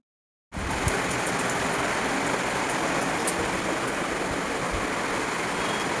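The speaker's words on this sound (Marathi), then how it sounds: "मस्त पाऊस पडतोय." Heavy rain pours outside, a dense, loud and constant hiss that starts abruptly and continues unbroken without talk.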